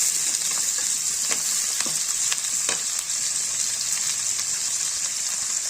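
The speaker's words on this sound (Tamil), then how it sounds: "வெங்காயம் இதை நல்லா வதங்கணும் நல்லா வதக்கிக்கலாம்" Onions sauté in a pan for a sardine curry, mathi meen kuzhambu, with a constant close sizzle and scattered crackles. A few sharper scrapes come as they are stirred.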